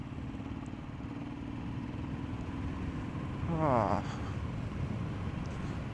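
A motorcycle rides at night on the Valparai route with a steady engine drone and wind rush throughout, and a brief rising whine from a passing vehicle or a gear change near the middle.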